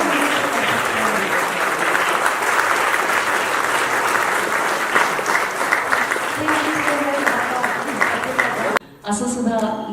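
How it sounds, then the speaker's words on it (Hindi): A standing audience at a Marathi film music and trailer launch applauds loudly and continuously, a dense wash of clapping from a large crowd that runs throughout and cuts off abruptly near the end. "एक बार खड़े होकर मैम के लिए ताली बजा सकते हैं"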